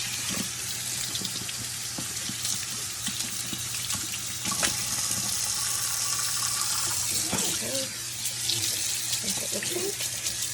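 Kitchen or sink tap water running steadily while a cleaning cloth is rinsed out, a continuous close splashing hiss with brief wringing and handling sounds, with some talk now and then.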